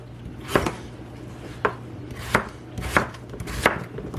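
A knife chops potatoes into pieces on a board, five sharp, distinct thuds spaced irregularly over a low steady hum, close and clear with no talk.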